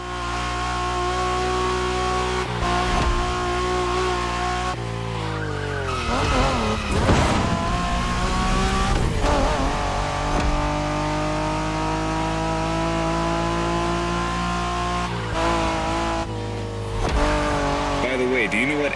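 Racing cars in The Crew Motorfest, a Honda NSX among them, roar continuously with loud engines, gear shifts and tire squeal, with game music and effects layered over the race.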